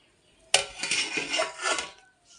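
A metal pot lid set down onto a pot of raw pigeon pea dal, a sharp close clank followed by a couple of seconds of rattling metallic scraping as it settles.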